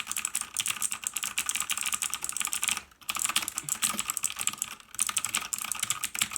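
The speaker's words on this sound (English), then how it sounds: "It has blue mechanical switches, which are, very clicky." Fast, continuous clicky typing on a VictSing TKL mechanical keyboard with blue switches, crisp and close, with two brief pauses between bursts of keystrokes.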